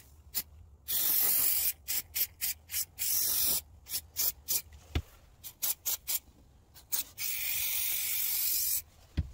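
Rust treatment product is sprayed inside a van in repeated hissing bursts, some short and some long, with pauses between them. Close and fairly loud, with no talk.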